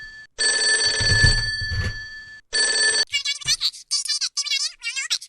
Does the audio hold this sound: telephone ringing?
yes